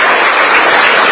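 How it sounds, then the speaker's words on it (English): Audience applause for the Diaspora Department staff at a gathering of Kenyans living in Doha, Qatar: a dense, steady wash of clapping that holds evenly loud for the whole moment, with no voices over it. "Can you clap for them on behalf of"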